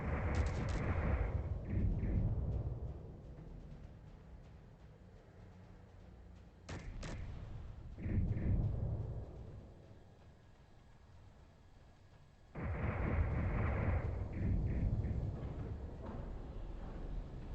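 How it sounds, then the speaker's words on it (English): Auto cannons and missiles fire during a space battle in a video game featuring an Onager-class battleship, producing dense rumbling bursts with sharp thuds, loud stretches alternating with quieter lulls, and no talking. "PDCs are activating, missiles are firing."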